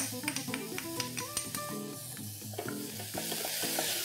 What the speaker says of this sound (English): Saute them for a few seconds.